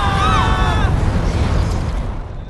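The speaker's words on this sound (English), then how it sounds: "May I offer you fire from my hands?" A burst of fire thrown from the hands in Guild Wars 2, a loud whooshing roar with a bright magical shimmer at the start that fades out over a couple of seconds.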